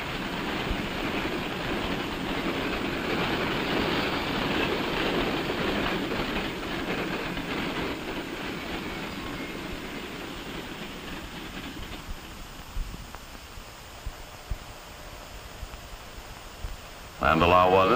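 Railroad trains of the 1950s rolling along the main line, a steady rumbling clatter that fades out midway, leaving quieter background with a few faint knocks, while a narrator talks over it.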